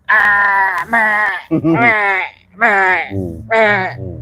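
A voice imitates a goat bleating in a series of loud, wavering, nasal 'meh' calls, about five in quick succession with short gaps.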